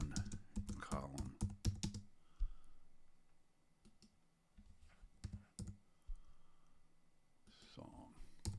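Quick bursts of computer keyboard typing, close and clear, with pauses and faint background between the bursts, and no talking.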